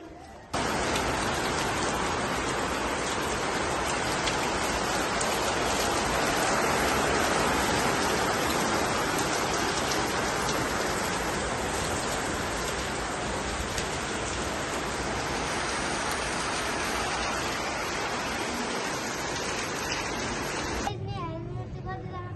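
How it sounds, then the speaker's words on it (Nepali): Rain pours down in a dense, continuous hiss, steady and fairly loud for over twenty seconds without a break before it cuts off abruptly at the end. "पानी पर्ने स्टार्ट भइसक्यो"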